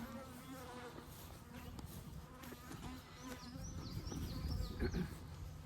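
Honey bees buzz around a hive on a bee farm, several faint droning buzzes rising and fading as individual bees fly close past.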